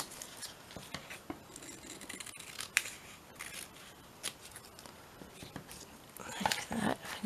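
Scissors snip out small bits of material in a string of quick, irregular close cuts, with light rustling of handled pieces between them.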